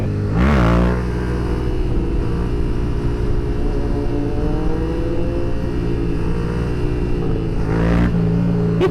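A Yamaha FZ-07 motorcycle engine revs hard during a wheelie. A loud rising roar opens the run, a sustained engine drone holds through the middle, and a second sharp rev surges near the end, with no talking.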